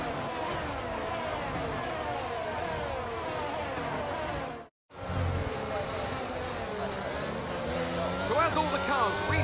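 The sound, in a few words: F1 22 video game race cars on formation lap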